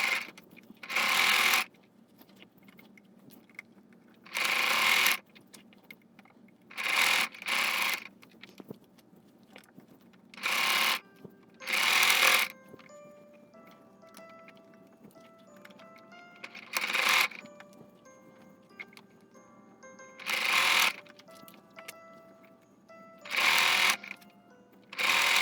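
An overlock and straight-stitch sewing machine sews a fancy dress made from a men's shirt, running in about nine loud, short bursts separated by quiet pauses.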